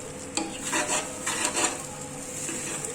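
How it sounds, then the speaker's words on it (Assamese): Pulao rice fries in a pressure cooker pot with a soft sizzle while a metal spoon stirs and scrapes against the sides, giving several clinking knocks early on over a steady hiss. "সেইখিনিৰ লগতো ভাল ধৰণে পোলাওখিনি ভাজি ল'ব।"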